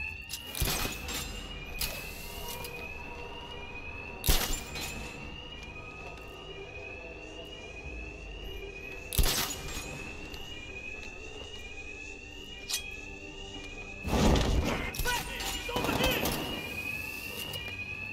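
An alarm sounds in the video game Batman Arkham Knight, a steady repeating electronic tone running throughout under sharp bangs and bursts of game noise.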